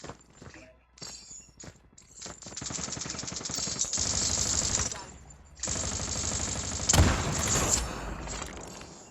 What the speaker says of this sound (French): Je crois qu'il y a quelqu'un qui m'a tiré dessus.